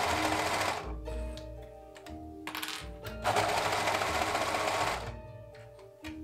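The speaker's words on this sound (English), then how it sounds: "I'm just going to be putting this very quickly together, just the sides of the skirt, and while I'm at it, I'm just going to be sewing the side of the hat as well" A home sewing machine stitches the side seams of a skirt and the side of a cosplay hat, running in several quick bursts of rapid rattling stitching with short pauses between them, close and clear.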